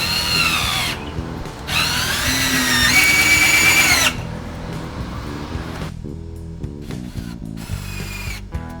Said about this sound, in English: I'm using 2 1/4 inch screws. We're just gonna sink this down in there and stack them.